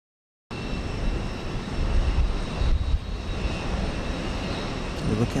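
Airliner jet engines on flight 2319 bound for Santa Ana, California, at Houston Intercontinental: a sudden onset of steady engine roar with a faint high whine, holding loud and even to the end, no voices.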